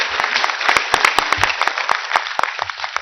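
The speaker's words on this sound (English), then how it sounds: "I think they deserve your applause." An audience at a university's annual convocation in Jammu applauds, producing dense, sharp clapping that stays fairly loud and busy for a few seconds, with no voices over it.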